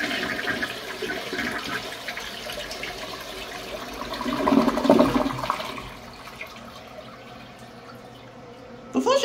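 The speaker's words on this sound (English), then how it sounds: "Here's a look at a flush." A third-generation Briggs Altima toilet flushes with a loud rushing surge of water that peaks midway and then drains away into a quieter trickle as the tank refills.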